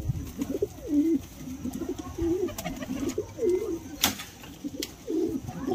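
Several pigeons coo softly and repeatedly nearby, their low rolling calls overlapping, with occasional faint clicks and rustles in the background.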